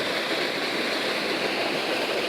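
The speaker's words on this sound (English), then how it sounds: "You guys can hear this. This is already a waterfall I'm here at now." Steady broadband rush of a waterfall along the trail down to Green River, close and continuous with no breaks, filling the whole moment alone without any voices.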